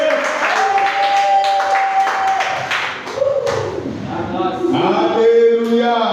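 A church congregation applauds and cheers for an arriving evangelist, with sustained clapping and voices under loud sung or shouted calls and tones.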